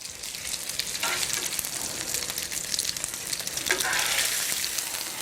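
Pork burgers sizzle in a hot pan with a steady, dense hiss that holds close and fairly loud for the whole stretch, with brief crackling swells and no talking.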